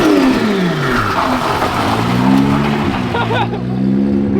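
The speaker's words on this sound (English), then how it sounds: "It revs quick." A 1000 HP JZ-engined pro race car revs loudly up close, its engine note climbing and falling with rapid, sharp pitch changes, accompanied by straight-cut gearbox whine.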